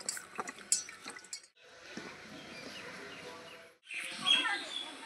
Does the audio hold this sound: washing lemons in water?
yes